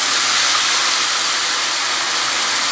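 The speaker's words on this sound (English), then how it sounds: "what I'm going to do now is deglaze this pan with some white wine" White wine poured into a hot pan of sautéed garlic and bay leaves to deglaze it, setting off a loud, steady, close hiss of steam that holds without a break.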